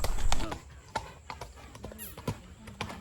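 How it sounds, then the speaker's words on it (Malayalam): Horse hooves clip-clopping at an irregular walking pace, close by, with a few distinct hoof strikes standing out over low background noise. "കുതിര ഓടിക്കാൻ നല്ലൊരു നല്ലൊരു കുതിര കേട്ടോ"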